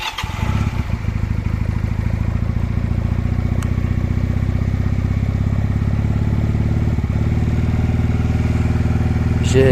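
A motorcycle engine runs loud and close throughout a brake test ride, a steady throbbing drone with slight rev changes and faint clatter, with no talking.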